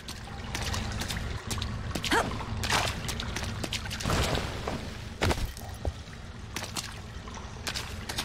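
Water trickling and pouring into standing water in a dark space in the game Bright Memory, a continuous dribbling splash with intermittent louder splatters.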